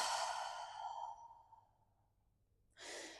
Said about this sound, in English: Hold it in for a second, and then you're going to breathe out with an open mouth.